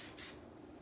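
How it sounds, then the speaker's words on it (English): A short, faint hiss of hairspray is sprayed onto beach-wave curls with a side fishtail braid, one quick burst of spray that trails off into quiet. "And now I'm just gonna spray it down."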